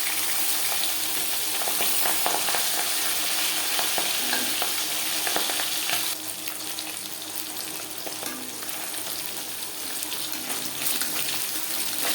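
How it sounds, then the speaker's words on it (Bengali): Pabda fish fry in oil in a pan, cooked with potato and eggplant, giving a continuous close sizzle with scattered crackles that drops slightly in level partway through and then carries on evenly without speech. "মাছ ভাজা হয়ে গেছে"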